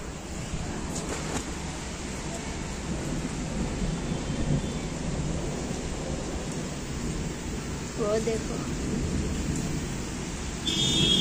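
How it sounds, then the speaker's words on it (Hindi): Steady, dense rain roars throughout, with low rumbling underneath like distant thunder; a voice briefly speaks over it near the end. "बहुत तेज बारिश हो रही है"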